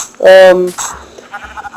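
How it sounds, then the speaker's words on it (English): A Minecraft sheep gives a loud, short bleat near the start, followed by quieter game sounds and faint murmuring. "We got a new sheep. And then we have a baby sheep"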